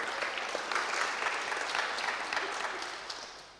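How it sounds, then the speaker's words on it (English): A live audience gives a round of applause, a brisk clatter of many hands that holds steady, then gradually fades toward the end, with no speech over it. "Can we give a quick round of applause for these people?"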